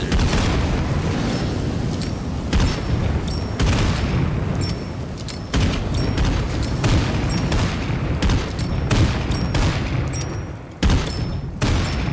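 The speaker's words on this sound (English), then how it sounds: "now you should use my napalm" Thrown napalm bursting in the video game State of Decay 2 sets off a long, dense barrage of loud booms and crackling pops, with repeated sharp blasts every second or two over a constant roaring rumble.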